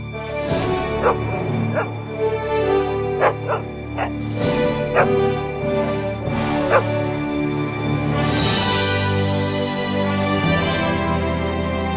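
German Shepherd dogs at a law enforcement K9 training kennel bark and yip in repeated sharp bursts, mixed with whimpers, over a steady tonal background.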